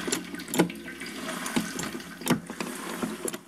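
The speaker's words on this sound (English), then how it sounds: "juice will run out. You can hear it." Apple juice running from a cider press, a steady watery trickle with occasional louder drips and splashes throughout.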